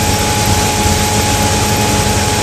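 Steady, loud drone of a 2018 Sea Ray Sundancer 290's engine cruising at just over 3000 RPM, a continuous low rumble with broadband wash and no talk.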